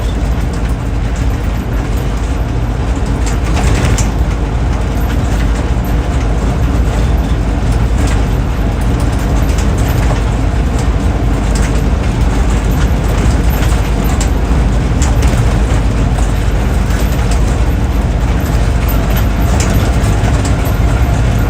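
A restored 1968 Land Rover Series IIa 88-inch soft top with a 2.25-litre petrol engine drives along, its steady, loud broadband engine and road roar continuous throughout with no pauses.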